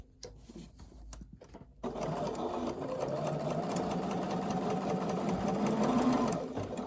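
A Bernina sewing machine stitches through a plain piece of fabric, starting after a few soft handling clicks and then running as a steady, close, rapid mechanical whir for several seconds.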